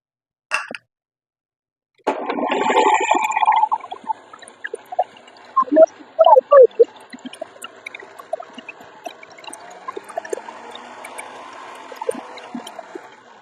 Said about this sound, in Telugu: ఇంకొంచెం వాటర్ వేసుకుందాము ఇది కొంచెం టైట్ ఉంది